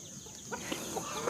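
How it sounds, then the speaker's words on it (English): Free-range chickens cluck in short, soft bursts over a steady outdoor background, several quick calls spread across the moment. "we have such a mix of chickens."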